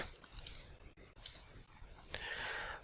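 A few faint, crisp computer mouse clicks tap out separately at a quiet desk, brief isolated transients over low room hiss with no talking.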